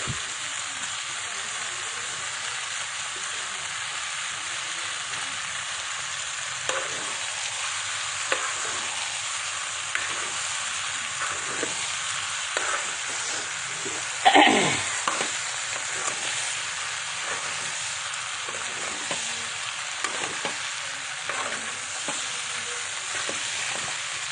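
Eggs drop into a hot pan and fry with a continuous close sizzle, broken by occasional scraping stirs and one sharp clatter near the middle, with no talking.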